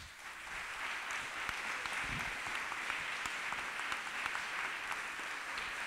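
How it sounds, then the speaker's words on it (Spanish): Audience applause at the closing session of a national cultural management conference, a steady, moderately faint wash of clapping from a seated crowd that holds evenly throughout. "Quiero pedirles un aplauso."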